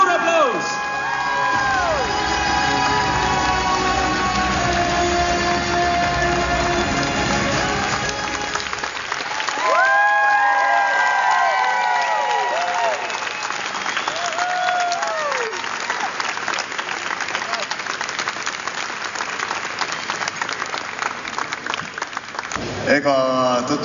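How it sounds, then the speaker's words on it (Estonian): An enthusiastic crowd bursts into sustained applause mixed with cheers and whoops after Vello Vaher's world record, loud and continuous for over twenty seconds, with shouting voices rising above the clapping. "Suur aplaus, Vello Vaher!"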